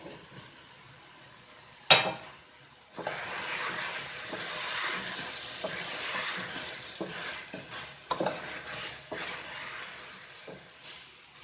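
Capsicum is lightly sautéed in a pan while cooking aloo matar curry, a steady moderate sizzle with occasional scraping stirs after a sharp clack as the pieces go in.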